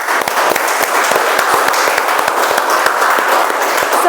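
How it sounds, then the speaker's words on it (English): An audience at a Toastmasters club meeting gives loud, steady applause. The many hands clap densely and evenly close by, and the clapping runs unbroken and without talk. "Let's give a big round of applause to Manoj for completing L1."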